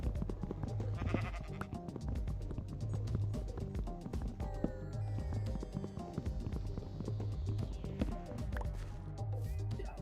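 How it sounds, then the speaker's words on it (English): A sheep bleats in the Minecraft video game, mixed low under continuous game sounds and background music with footsteps, fairly quiet throughout. "Hey, sheep. Actually, I need your wool."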